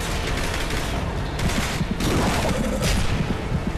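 Dense, sustained gunfire from the video game Dark Sector, a continuous loud barrage of shots and impacts with little pause and no talking.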